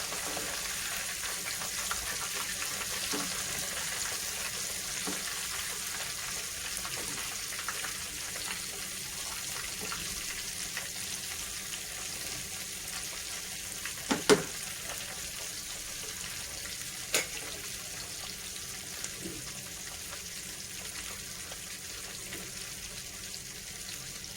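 Chicken frying over a low gas flame gives a steady, soft sizzling hiss throughout, nearby but quiet, with a few faint clinks and taps.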